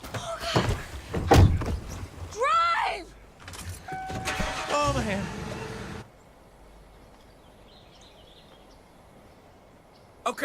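In Far Cry 5, a car door thuds and an engine starts with game character voices in a busy mix, then the scene cuts to a quieter low vehicle drone with a final knock at the end.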